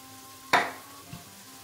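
Fresh tomato drops into a hot pan for a Greek beef and orzo casserole, setting off a sudden loud sizzle that fades over a moment, followed by a soft clunk.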